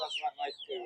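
A brief burst of black hens clucking close by at a domestic animal market in Kyzylorda, a few quick throaty notes in under a second.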